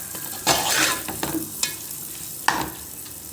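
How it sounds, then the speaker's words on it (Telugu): Curry with chicken, herbs and greens frying in oil, giving a close sizzle with scraping stir strokes and occasional sharp clinks of the spoon against the pan. "ఇప్పుడు కర్రీ బాగా మగ్గాలి, ఆయిల్లో బాగా ఫ్రై కావాలి."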